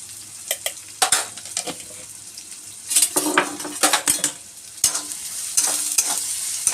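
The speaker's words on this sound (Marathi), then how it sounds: "मस्त असं आपल्याला लालसर कांदा चांगला शिजवून घ्यायचा आहे." Sliced onion with salt sizzles steadily in a hot pan, punctuated by repeated scrapes and clinks of a spatula stirring, with louder bursts of stirring midway and toward the end; no talking.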